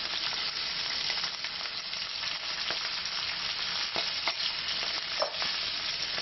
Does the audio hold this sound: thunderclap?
no